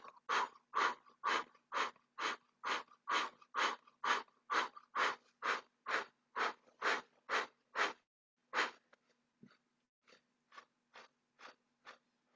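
Rapid rhythmic breath of fire exercise, with cheeks puffed and the navel pumping, giving a fast even train of sharp nasal exhalations for about eight seconds, then a brief pause and a lighter, quieter run of puffs.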